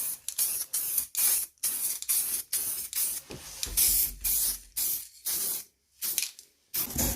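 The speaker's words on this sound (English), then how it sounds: "it's quick drying spray, interior and exterior for wood and all sorts of plastic and metal," Repeated bursts of hissing spray from an aerosol can of quick-drying spray paint, short and long sprays separated by brief pauses, close and loud.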